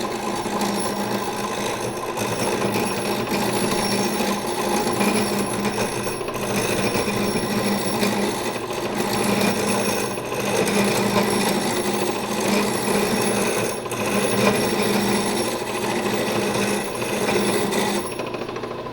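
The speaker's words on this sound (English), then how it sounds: "you need to speed the lathe up" A wood lathe spins a duck call blank on a tapered mandrel, giving a steady, continuous whirring hum with a faint rhythmic rattle, unbroken for the whole stretch and with no talking.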